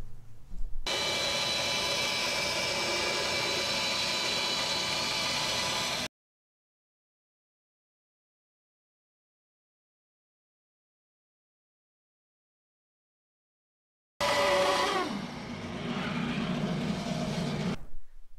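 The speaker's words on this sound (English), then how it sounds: "I'll set the table on the bandsaw" A bandsaw cuts a wooden form block for a Hawker Typhoon fin at an angle, a steady loud whirring drone for several seconds, then silence, then the motor returns with a rougher cutting tone.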